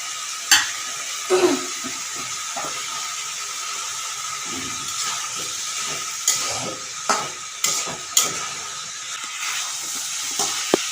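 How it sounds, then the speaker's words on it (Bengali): Beetroot and carrot being stirred with spices and salt in a pan: soft sizzling under repeated scraping and clinking of a spoon against the metal pan, with irregular strokes spread across the whole stretch. "তিন চার মিনিট ধরে এটা নেড়েছি নাড়ার পর পুরো লাল হয়ে গেছে"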